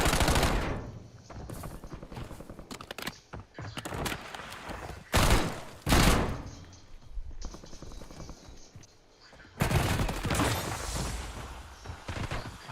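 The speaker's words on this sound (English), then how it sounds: "I don't know why he's shooting the wall there" Gunfire in a Call of Duty Warzone solo match, bursts of automatic shots and single cracks in uneven clusters, loud and close, with quieter gaps between volleys.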